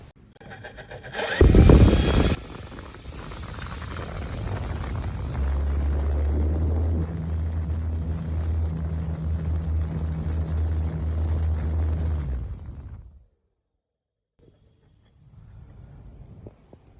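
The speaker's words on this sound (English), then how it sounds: "That is with the 3542-800 spinning an master air screw 11x6 prop." An SK3 3542-800 electric motor spins a Master Airscrew 11x6 propeller on an Extreme Flight Vanquish MKII RC pattern plane, rising from a brief burst to a steady loud whir with a low droning hum for about ten seconds, then cutting off abruptly.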